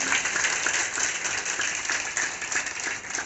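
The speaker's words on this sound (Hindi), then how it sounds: "तो इनके लिए भी अच्छे से तालियां बजाओ।" Steady, dense applause from an audience at a Mahashivratri function in Multan Nagar, welcoming musicians from Karnal, continuous and fairly loud throughout with no talk over it.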